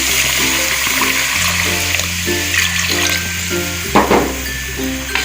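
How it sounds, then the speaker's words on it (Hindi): A cup of water is poured into a cooking pan of simmering chicken and potato koftas. It makes a steady, close pour with sizzling and splashing, and a low tonal background runs throughout. "1 कप पानी डाल देंगे।"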